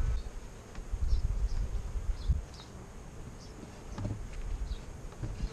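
Honey bees around an apiary hive after wintering give a steady low buzzing drone, with occasional individual bees flying close past and faint rustling in the background.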